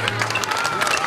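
A crowd at a kindergarten opening ceremony applauds children's performance, a brief burst of dense, continuous clapping from many hands.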